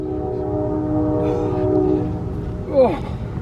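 A train horn sounds in long steady tones over constant rumbling rail noise, with a brief higher whistle-like sweep near the end.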